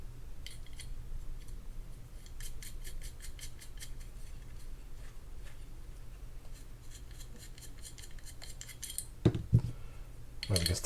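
Small metal parts of a Shimano Talica 16 two-speed fishing reel being screwed together, with light metallic ticks and rubbing through most of the stretch and a few louder clicks and handling knocks near the end, close and quiet.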